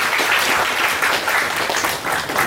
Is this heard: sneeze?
no